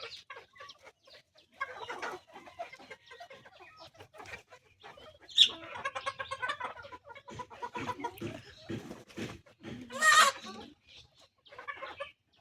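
Farm chickens cluck and squawk in scattered bursts while being chased, with a couple of sharp loud squawks and people talking and calling out throughout.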